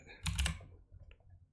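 Computer keyboard typing, a short cluster of quick soft key clicks up close, then a faint lone tap after a pause.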